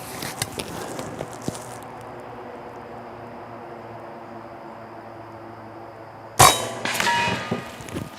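Air Force .25 caliber PCP air rifle shot striking a cinder block with steel behind it: faint clicks early on, a long quiet stretch, then one sharp, loud crack with a short ringing tail.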